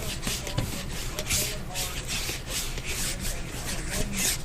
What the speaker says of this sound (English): Right now I'm gonna dip my brush into some vegetable glycerin, and we'll just kind of put it on here real quick.